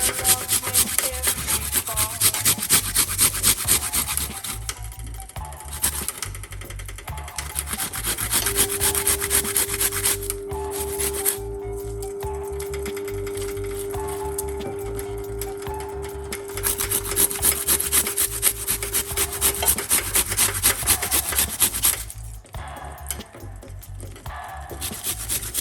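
Fresh ginger is rubbed steadily against a grater, making a continuous close, scratchy rasp, with light pressure and brief pauses between strokes.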